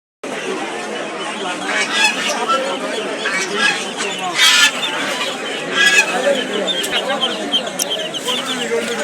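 Chinese geese and swans at a busy market give scattered honks and squawks amid a constant crowd din, with people talking throughout.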